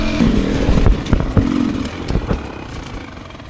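A 2024 Beta 300 RR Race Edition two-stroke dirt bike ridden hard, its engine note rising and falling close by with clattering bumps, fading somewhat toward the end.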